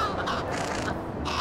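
Crow caws from Little Kitty, Big City, a few harsh calls repeating over a steady bed of game ambience, fairly close and moderately loud with no talk.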